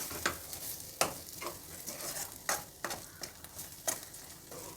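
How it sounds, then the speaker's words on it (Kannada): Garam masala powder frying over a very low flame in a pan, with a soft steady sizzle broken by intermittent scraping stirs of a spoon, close and moderately quiet, no voices. "ಗರಂ ಮಸಾಲೆ ಒಂದು ಅರ್ಧ ಟೀ ಸ್ಪೂನಷ್ಟು, ಇದನ್ನು ಸ್ವಲ್ಪ ಹುರಿಬೇಕು ಚೆನ್ನಾಗಿ"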